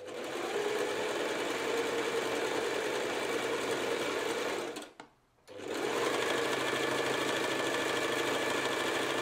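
Sewing machine stitching fabric around a bend, a loud, steady close-up motor hum and rapid needle chatter that cuts out for a moment near the middle and then picks straight back up.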